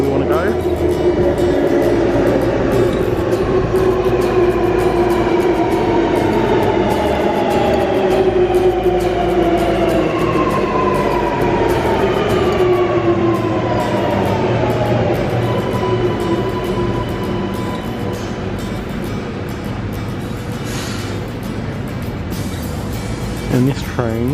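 A new Sydney Metro train runs toward Chatswood, heard from inside a busy carriage: a steady loud rumble with rising and falling motor whine throughout, continuous for the whole stretch, with passenger voices mixed in.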